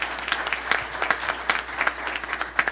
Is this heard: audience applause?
yes